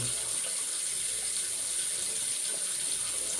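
Water runs steadily from a bathroom tap while a Razorock German 37 slant safety razor is rinsed under it, a close, continuous broadband hiss with no voices.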